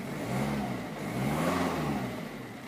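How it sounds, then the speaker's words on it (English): A Ford Focus 1.6 TDCi diesel engine with a low oil pressure warning revs steadily from close by, a continuous rough mid-pitched drone that swells and eases slightly twice. "I'll give it a bit of a rev."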